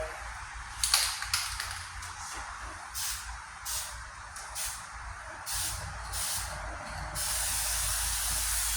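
Aerosol spray paint can hissing in several short bursts onto a 1998 Ford Ranger tailgate under rust repair, then one long steady spray at the end; close and fairly loud, no voices.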